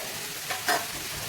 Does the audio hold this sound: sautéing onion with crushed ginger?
yes